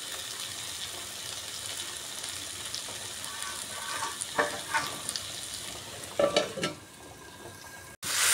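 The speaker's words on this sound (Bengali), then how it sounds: "গ্যাসের আঁচটা একদম কম করে ঢেকে দিচ্ছি, এতে করে চিকেনটা সিদ্ধ হয়ে যাবে।" Chicken cooking in a covered pan over a low gas flame gives a soft, steady sizzle close by, broken by a few brief louder clatters and scrapes toward the end.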